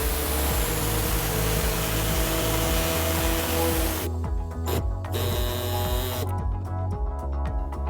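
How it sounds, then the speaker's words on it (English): A pneumatic air saw cuts through the plastic rear bumper of a 2018 Volkswagen Golf SportWagen during a trailer hitch install, a loud continuous buzzing drone that runs throughout, with a few brief stutters as the blade catches and pauses near the end. "we're going to cut out this exposed part using an air saw"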